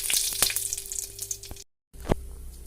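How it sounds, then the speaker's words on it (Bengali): Bay leaves and dried red chillies fry in hot oil in a pan, giving a steady close sizzling hiss with a brief dropout near the end. "দিয়ে দিলাম তেজপাতা আর শুকনো লঙ্কা"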